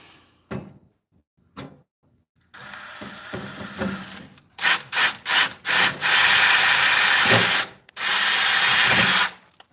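A 1/8 inch pilot drill bit boring a hole, with short stop-start bursts building into long sustained whining runs of drilling, loud and close, one brief pause near the end.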